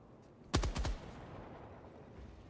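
A short burst of gunfire in Helldivers 2, fired at enemy eggs: a quick cluster of three or four loud, sharp shots that trail off into a low ambient rumble, with no talking.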